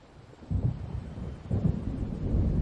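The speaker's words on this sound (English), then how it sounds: "It seems there's a storm coming." Low rumbling thunder from an approaching storm in the Alan Wake Remastered video game, rolling in two swelling waves with no voices.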